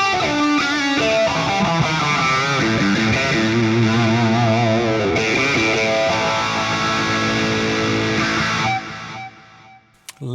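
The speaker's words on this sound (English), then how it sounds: "Lovely, lush phaser sound there." An electric guitar runs through a Fractal AM4 modelling a Cameron CCV2 amp with a Script 90 phaser, playing distorted chords that swirl and sweep for several seconds. It then cuts to near silence.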